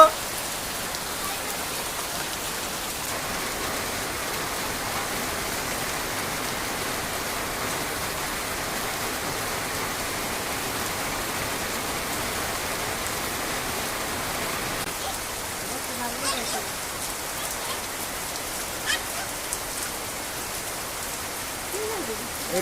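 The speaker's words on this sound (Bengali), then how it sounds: "প্রথম বৃষ্টি নামলো" Steady first rain of the season hisses evenly throughout in a village, a dense wash of drops with a few faint voices briefly audible in the background.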